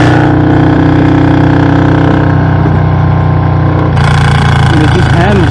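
A Harley-Davidson FXLRS with a Milwaukee-Eight 117 engine rumbling loud and close while riding, a continuous deep throb that shifts in tone partway through, with no voices over it.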